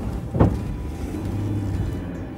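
A Land Cruiser car driving down a ramp into a basement parking garage, with a steady low engine rumble and a brief louder whoosh near the start, no talking.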